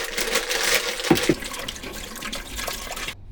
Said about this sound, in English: I'll wash these